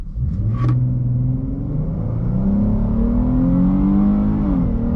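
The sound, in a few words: V6 car engine accelerating hard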